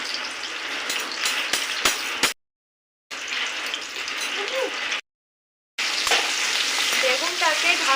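Eggplant frying uncovered in a pan over medium heat, loud continuous sizzle with stirring scrapes, broken by two short silent gaps.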